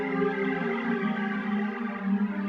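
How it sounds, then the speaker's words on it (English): A soft, sustained synth pad from the Synthtopia pads wave preset holds smooth, warm chords that swell gently, alone with no voices. "So it is the pads wave preset from Synthtopia."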